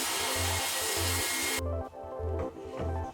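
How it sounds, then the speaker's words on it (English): A jigsaw cuts notches in a 1/4-inch MDF shelf, making a loud, dense, continuous motor roar that cuts off abruptly partway through, followed by quieter rumbling and a low rhythmic pulse. "I made 2 quick cuts on the jigsaw to allow it to fit into place."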